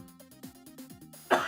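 A single sharp cough bursts out near the end, close and loud, from a live streamer, following a run of tonal electronic sounds.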